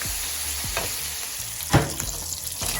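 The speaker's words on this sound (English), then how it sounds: "About to get these squash in. I'm baking for my squash. Brown this up" Squash browning in a pan sizzles in a steady, loud hiss, with a few sharper crackles and one brief louder pop near the middle; no one speaks.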